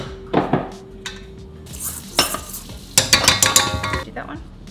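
Ingredients with cinnamon are stirred in a bowl, with a utensil clinking and scraping against the sides in short irregular bursts. Each burst is brief, close and fairly loud.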